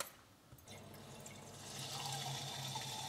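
Sparkling water poured for an apple cider vinegar drink, a soft hiss and fizz that builds into a steady pouring, bubbling rush, fairly quiet and close.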